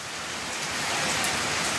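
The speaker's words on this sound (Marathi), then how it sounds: "आज तर अक्षय तृतीयापेक्षा तर जास्तच पाऊस दिसतोय" Heavy, steady rain pours down onto a courtyard already pooled with water, a dense, even hiss that stays loud and constant throughout, with no voices.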